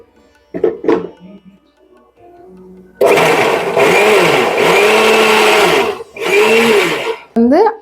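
Electric mixer beating plum cake batter with milk poured in, a loud steady whirring drone with a few pitch dips as the load shifts, preceded by brief clinks and a short spoken bit.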